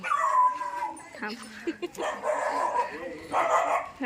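Dogs at a small weekly village market yelp, whine and bark in uneven bursts nearby, mixed with people talking.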